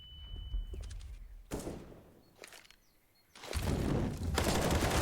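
Gunfire in a Counter-Strike match on the Inferno map, with several bursts of rapid shots and heavy thumps separated by quieter gaps, ending in a loud sustained volley of firing, with no speech.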